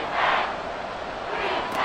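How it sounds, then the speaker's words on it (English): A simulated stadium crowd roars in Madden NFL 24 during a Bills versus Chiefs game, a steady broad wash of cheering with swells near the start and end and no clear voices. "Crowd on their feet."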